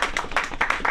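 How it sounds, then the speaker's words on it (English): Audience at an LA comedy school show claps in short uneven bursts, a small crowd applauding close by. "we're going to give a round of applause first and foremost to your comedy concierge who makes this evening possible, Samantha Linderman."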